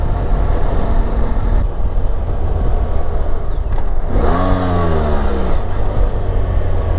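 A BMW F 800 GS motorcycle out on a ride, its engine droning steadily under heavy wind rush, then revving up with a rising pitch around the middle before settling back into a constant hum.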